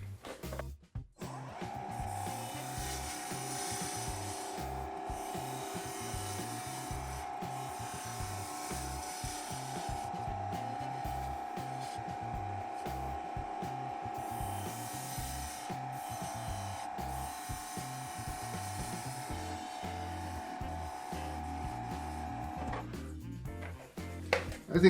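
A wooden bowl being turned into a goblet on a lathe, the spinning piece giving a continuous close scraping, rubbing hum with a faint steady tone running under it, alone and fairly quiet.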